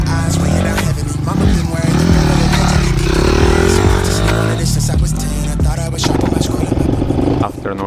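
Honda CRF dirt bike ridden along forest trails in Bunyip State Forest, a continuous engine drone that rises and falls with throttle, rattling and clattering over rough ground, loud and close, with music audible underneath.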